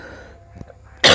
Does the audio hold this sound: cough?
yes